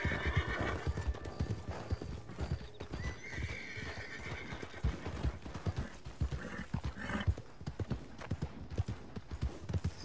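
Hooves clatter in a fast, driving gallop while a horse neighs shrilly several times over the pounding rhythm, with effects from the game Red Dead Online layered around it.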